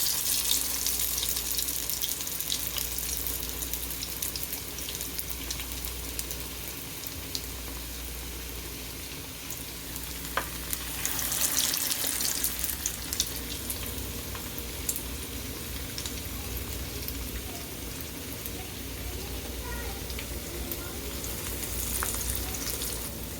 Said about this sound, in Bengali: এই আকারে আমি একটি একটি করে বানিয়ে নিয়ে গরম তেলে ছেড়ে দিচ্ছি।